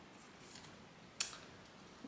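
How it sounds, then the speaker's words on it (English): Small craft scissors handled among knitting and fiber tools, giving a single faint metallic snip or clink amid quiet room noise, with a soft voice briefly at the end. "cute little scissors."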